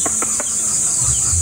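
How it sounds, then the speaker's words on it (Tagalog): Native chickens on a farm give a few short clucks, close and fairly loud, over a steady high insect or cricket drone with no talk. "Napakadaming manok mga idol."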